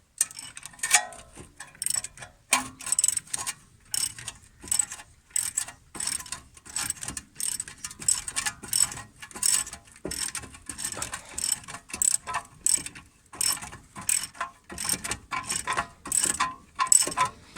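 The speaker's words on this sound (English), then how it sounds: "and tighten it up, and as you can see, the piston will slowly go back in" A ratchet handle clicks steadily as it is tightened to push a front brake caliper piston back on a 2003–2008 CL7 Honda Accord, a close, rapid train of sharp metallic ticks with brief pauses, no talking.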